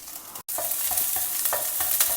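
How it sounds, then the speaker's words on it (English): Chana dal, urad dal, dry red chilies and a green chili are sautéed in hot oil, giving a constant close sizzle broken by repeated scraping stirs of a spoon in the pan, with no talking. "chana dal, just 2 dry red chilies, 1 green chili. Saute everything"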